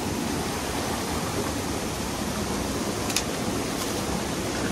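A Himalayan mountain river in Darjeeling rushes with a loud, even roar of broadband water noise that holds unbroken throughout.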